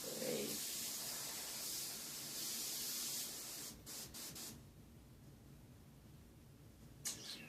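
A steady, loud airbrush spray hisses continuously for several seconds, then the sticking gun sputters into short bursts and fades to a faint hiss with one brief spurt near the end.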